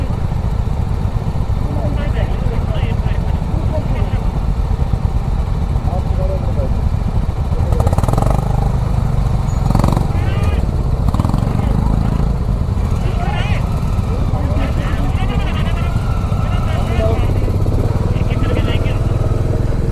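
A group of motorcycles idles together on a Ladakh road trip between Nyoma and Manali, a constant low engine rumble that runs throughout, with voices of the riders talking over it.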